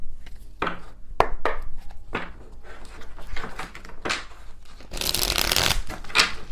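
A tarot card deck is shuffled by hand in quick bursts of riffling and sliding cards, close and crisp, ending in a longer, denser flurry.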